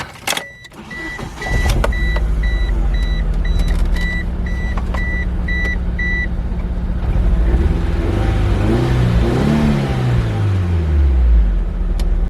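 A 1999 Mitsubishi Eclipse GSX turbo engine being revved after fitting new spark plugs, starting up close and loud, holding a steady idle, then rising and falling through several revs with faint beeps early on.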